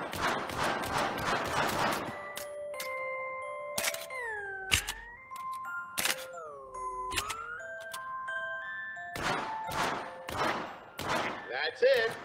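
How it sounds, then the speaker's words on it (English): Gunshots fired at shooting targets in a VR video game on Quest 2, sounding as a rapid burst of sharp shots at the start, then scattered single reports between chiming tones and electronic beeps. "Keep shooting those targets."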